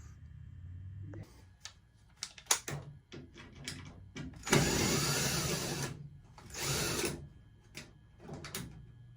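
Screws being taken out of a Kenmore washer during a water-leak repair, heard as close, scattered clicks, taps and short scraping rattles of metal, with a louder sustained rasp midway and no talking.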